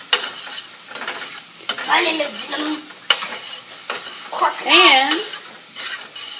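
Cauliflower rice frying and being stirred in a pan with olive oil over medium-high heat: bursts of sizzle and scraping stirs, close and loud, with a brief spoken word.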